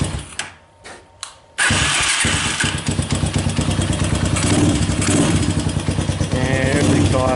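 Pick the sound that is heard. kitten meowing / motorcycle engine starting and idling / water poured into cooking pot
motorcycle engine starting and idling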